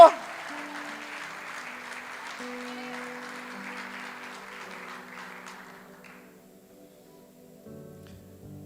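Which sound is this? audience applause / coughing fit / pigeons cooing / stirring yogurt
audience applause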